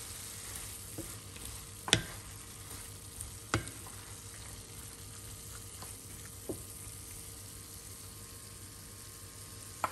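Hakka noodles being stir-fried with bean sprouts, a continuous soft sizzle under a few sharp spoon clanks against the pan, close but fairly quiet.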